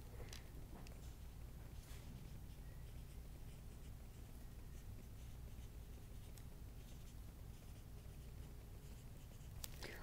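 Pencil writing notes on paper in a quiet classroom, a faint continuous scratching and scribbling with a few light taps, close and soft with no voices.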